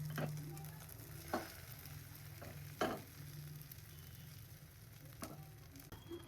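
Omelette frying in a pan on a home stove, a continuous low sizzle broken by several sharp scraping clicks from a utensil against the pan, with no talk.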